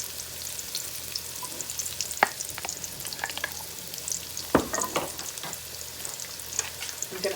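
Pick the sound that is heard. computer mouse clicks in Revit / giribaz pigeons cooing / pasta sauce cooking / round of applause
pasta sauce cooking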